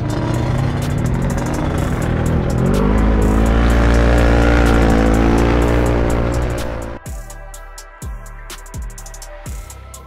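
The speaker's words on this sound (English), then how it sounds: "we just did three back-to-back-to-back pulls with intercooler fan disconnected" A tuned 2021 Can-Am X3 RR side-by-side makes a full-throttle pull with its intercooler fan disconnected, roaring loud and close as the engine climbs. The roar cuts off abruptly into a series of sharp, rapid shift or backfire pops.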